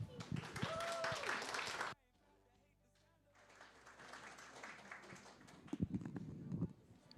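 At a Démonte ton mythe evening in Montreal, a room full of people claps for the speaker Philippe. The applause builds after a voice and a brief pause, then fades out.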